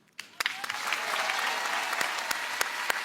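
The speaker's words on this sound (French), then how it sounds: "Applaudissements pour Sohan, s'il vous plaît." An audience applauds performer Sohan at a live show, with dense, sustained clapping that begins abruptly and holds steady, with a few sharp individual claps standing out.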